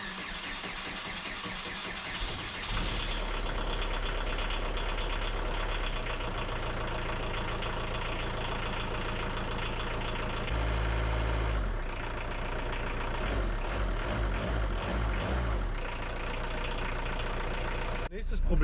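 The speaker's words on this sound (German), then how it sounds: "Er läuft und nagelt wie ein großer." A diesel engine starts and settles into a steady, clattering idle, loud and close, with a rough knocking rhythm that continues throughout.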